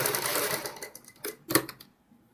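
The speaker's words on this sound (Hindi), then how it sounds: "इसी तरीके से सिलाई लगाते हुए हम अपनी पूरी पाइपिंग को निकालते हुए गला कंप्लीट करेंगे" A sewing machine stitches piping around a blouse back neck, short bursts of rapid mechanical whirring that stop and start, close and moderately loud, ending in quiet.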